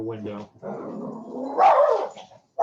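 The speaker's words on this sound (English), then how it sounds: "Our mail is getting delivered, so please excuse the barking dog." Indoors, a dog barks and growls while the mail is being delivered, a rough burst of noise that rises to a louder peak near the end, mixed in with a person speaking.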